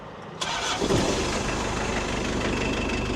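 A Mitsubishi L200 pickup engine cranks and catches, then settles into a steady, fairly loud idle with a low rumble that continues to the end.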